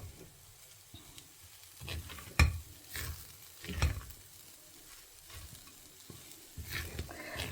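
A spatula works plantain mash with coconut in a pan for Madhva-style matvadi palya, making scattered scrapes and knocks over a faint, low sizzle, with no voices.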